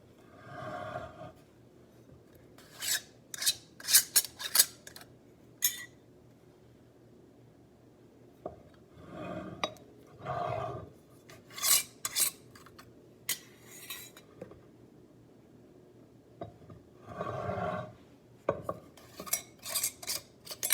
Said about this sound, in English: The test is to lift the jar by the lid, and if it holds, then the seal is good.